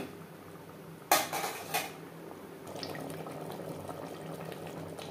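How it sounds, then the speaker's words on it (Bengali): Metal utensils clatter sharply against a pot of mutton and potato curry in tomato paste, followed by a steady pour and gentle bubbling as water goes in over high heat. "এখানে আমি মশলা ধোয়া জল অ্যাড করলাম।"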